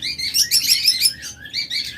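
Bright red pet birds in a bird shop chirp in quick, high, overlapping tweets, loud and close, with several birds calling in short bursts and no talking.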